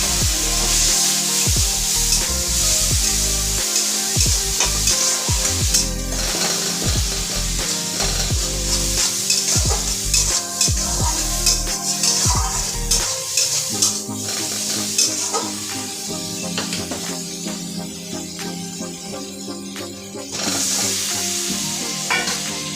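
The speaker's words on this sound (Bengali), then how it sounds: "এখন একটু সামান্য একটু জল দিয়ে ভালো করে কষাবো" Potatoes sautéed and stirred in a pan for a rohu fish curry with tomato, a loud continuous sizzle broken by the scrape and clatter of a spatula against the pot, with no talking.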